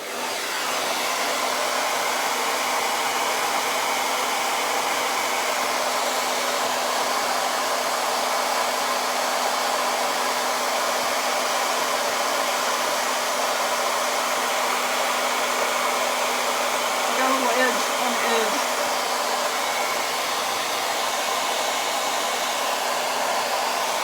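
A heat dryer blows steadily and loudly on a craft piece for the whole stretch, a constant close whooshing hum with no breaks and no one talking.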